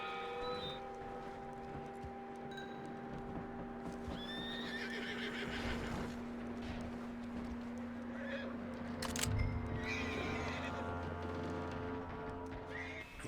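In the Red Dead Redemption 2 video game, a horse whinnies and snorts while hooves clop on the ground, with faint birds and other ambient sounds in the background.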